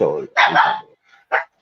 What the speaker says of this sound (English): if you hear the dogs barking, it's my chihuahuas.